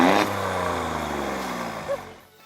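A 2020 Alfa Romeo Stelvio Quadrifoglio with its exhaust valves open gives a loud, close engine note whose pitch sinks steadily as the revs fall, fading away in the final half second.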